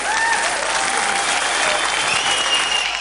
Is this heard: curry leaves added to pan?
no